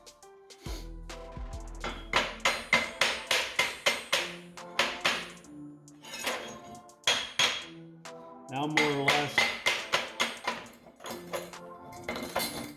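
A chipping hammer taps repeatedly at metallic welded buildup around a broken stud, giving bright ringing clinks in quick rhythmic runs with brief pauses, close by; someone speaks briefly.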